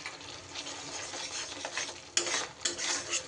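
Masala with turmeric and chilli powder being stirred and fried in a pan, close by, with soft continuous sizzling and scraping strokes, a couple of sharper utensil scrapes standing out near the end.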